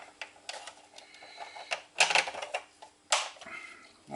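A small 3D-printed plastic vent piece for a plasma rifle prop snaps into place, giving a few sharp, close clicks and taps, with two louder snaps near the end.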